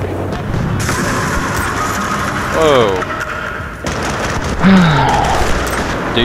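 Bursts of gunfire rattle through a Battlefield: Bad Company 2 firefight, loud and broadband with booming impacts, while players talk over the shooting.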